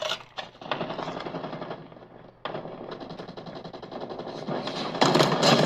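Rapid automatic gunfire from a first-person shooter video game rattles in dense bursts, with a brief lull before the firing resumes and grows louder at the end.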